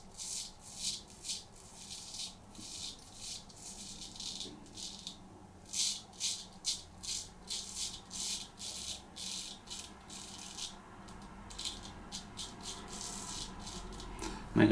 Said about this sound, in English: Make their own kind of noise, these Swedish razors, especially these hollow grounds.